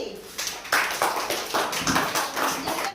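Schoolchildren clap together during a summer camp quiz activity, several ragged rounds of sharp hand claps following one another at close range.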